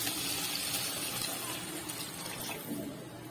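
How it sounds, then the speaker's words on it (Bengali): A small amount of water is poured into a pot of spiced, sautéed vegetables that have just had a pinch of sugar added, giving a steady, close splashing gush with no talking. "আর এখন একটু জল দিয়ে দেবো"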